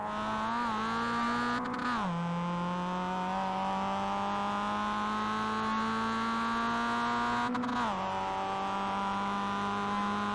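Mazda MX-5 engine in the iRacing sim on the Charlotte Roval, rising steadily through the revs with two brief dips at gear changes, loud and continuous with no talk.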